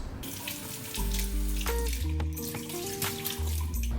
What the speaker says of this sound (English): I need to wash the mushrooms first.